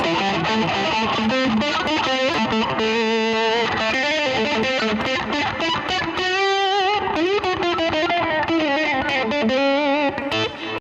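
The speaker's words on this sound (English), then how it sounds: "Ah, is that the best fuzz ever?" A heavily fuzzed electric guitar plays soaring lead lines, with sustained bent notes and gritty, saturated tone, loud and alone.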